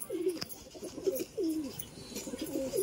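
Several pigeons coo in soft, rolling phrases at close range, repeating every second or so with a few faint chirps behind them. The birds are a Kalasabuj breed kept at a home in Andaman.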